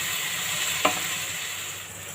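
Onion, garlic, ginger-garlic paste and whole garam masala frying in ghee with a little oil for dal makhani, a steady close sizzle with one brief stir or clink partway through.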